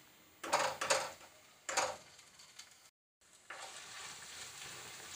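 Garlic and ginger paste dropped into frying onions, setting off a few sharp sizzling bursts with a spoon clatter, then a brief gap before a steadier, quieter frying hiss settles in.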